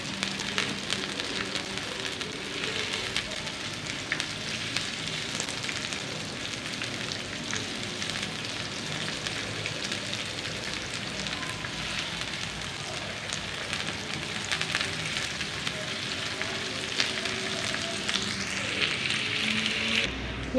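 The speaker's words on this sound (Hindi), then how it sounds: "और प्याज़ों को 1 मिनट तक पका लेंगे" Onions sizzle in a pan while cooking for an egg-and-onion dish, giving a steady, continuous crackling hiss at even loudness throughout, with no talking over it.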